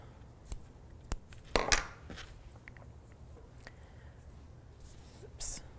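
Scissors snip through a yarn tail while finishing a knitted Christmas-lights sweater; a few short, quiet cuts sound close by against a soft background.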